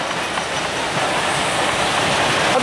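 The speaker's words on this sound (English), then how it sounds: "Oh, that's a run down that way, that freight train." A freight train rolls past close by, a steady, loud rumble of wheels and rail clatter that fills the whole moment without a break.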